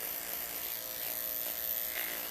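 Andis T-liner electric hair clipper running during a skin fade haircut, a close, steady high-pitched buzz that holds unbroken throughout, with no voices over it.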